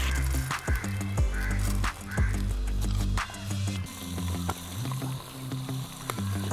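The last batch of chicken pieces fries in oil for a Mughal-style biryani, producing a loud, continuous close sizzle with crackling bursts and some stirring, with no talking.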